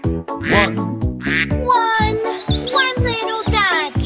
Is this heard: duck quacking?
yes